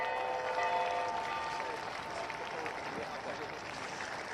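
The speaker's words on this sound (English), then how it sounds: "Give them a round of applause." A crowd applauds the players after the final of the 2014 Cartier Queens Cup polo match, Zacara against Talandracas, with steady, dense clapping that holds for the whole stretch at a moderate distance.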